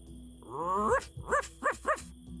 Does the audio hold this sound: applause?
no